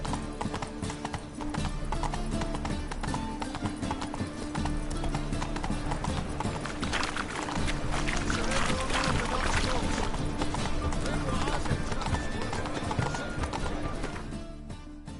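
Roach the horse gallops in a video game, steady rapid hoofbeats pounding loud and continuous alongside dense game music and ambience, with a voice talking over it.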